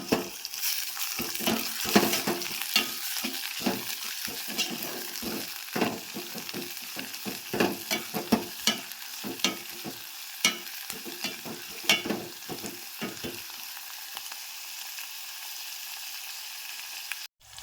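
Chopped onions fry in a pan until golden, giving a steady close sizzle broken by repeated scraping and stirring strokes. No one speaks.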